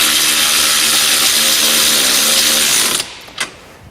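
A power driver tightens nylock nuts onto a U-bolt while fitting a maypole spare wheel carrier: a loud, close, continuous whirring for about three seconds, its tone dropping slightly under load, then stopping with a short knock.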